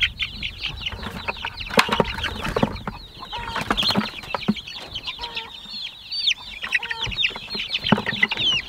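Chickens cluck and squawk in a busy homestead flock, with wing flapping and scattered calls layered close and continuous over low rustling and handling noise.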